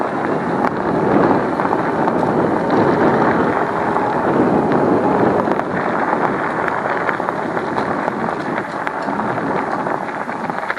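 A new electric motorcycle ridden at about 25-26 km/h on a partly charged battery, with a steady, loud rush of wind buffeting the microphone for the whole stretch and no clear motor whine above it.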